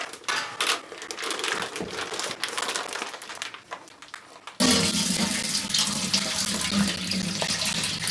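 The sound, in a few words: wine must poured out of bag into container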